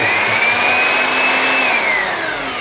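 An electric wall sanding machine for paint sanding runs at a steady high whine with a slight pitch dip toward the end, loud and close.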